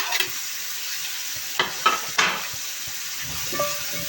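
Potatoes, carrots and onions are stirred in a pot for lentil soup, a few distinct scraping sweeps over a soft sizzle, close and fairly loud.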